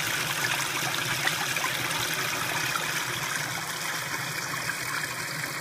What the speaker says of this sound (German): Wasser fließt hier rechts in den Tank und erzeugt eine linksdrehende Bewegung und dann fließt es hier in den Tank auch wieder raus